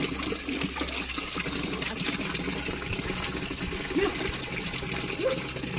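Water runs steadily into a basin holding cleaned fish pieces, a continuous close rushing hiss that stays even for the whole stretch, with a faint low hum underneath.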